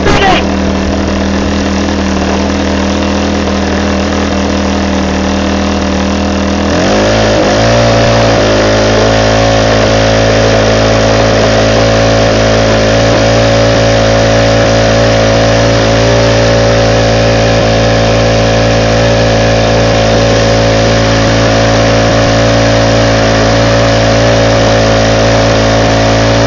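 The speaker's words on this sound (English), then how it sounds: "Fan number 3 is spinning." A power inverter's cooling fan spins up after being plugged in, then holds a loud, steady mechanical whir and hum that fills the whole stretch with no pauses.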